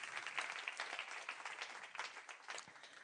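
A conference audience applauds the board members of the European Women on Boards talent pool: dense, sustained clapping from many hands, moderately distant and fairly quiet, with no talk over it.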